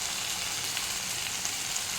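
Spices sizzling in a pan while frying for chana masala, a steady dense crackling hiss throughout, close and even with no talking.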